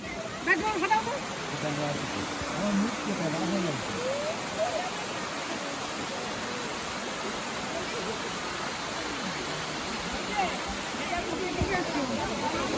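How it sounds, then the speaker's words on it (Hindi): Elephant Falls waterfall in Shillong, Meghalaya pours in a steady, broadband rush, while someone talks over it intermittently close to the mic. "Look at the view of the waterfall."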